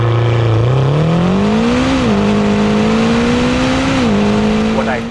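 A 2021 McLaren GT turbocharged grand tourer pulls hard under acceleration, its engine note rising loud and close through two quick upshifts with a rushing turbo spool beneath.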